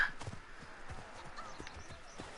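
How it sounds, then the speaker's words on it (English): Donkey hooves clip-clopping along in an ancient Egyptian oasis market within a video game, a steady quick rhythm of soft, fairly close hoofbeats over faint ambient murmur. "Oh, another donkey."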